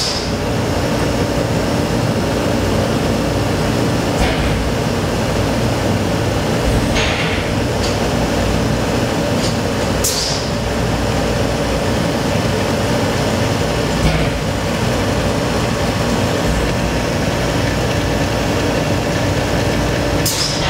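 A testing machine performing face bend tests on weld samples makes a loud, continuous grinding, mechanical rumble, with occasional sharp metallic clanks and cracks breaking through.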